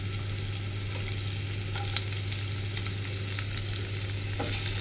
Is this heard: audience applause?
no